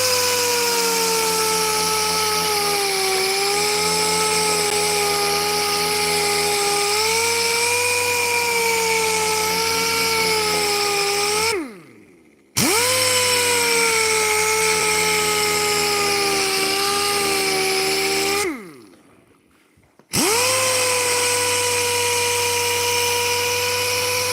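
A power sander whines loudly and steadily against the edge of a wooden side table, its pitch wavering under load, and it cuts out twice, spinning down to silence before starting up again.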